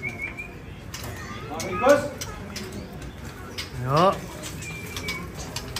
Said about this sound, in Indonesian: Kita fokus bongkar murai batu dulu.